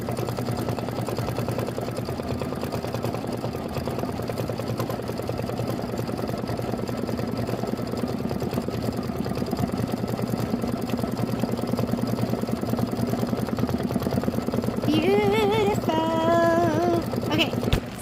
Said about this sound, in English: We're going to stitch out the beautiful mango smoothie.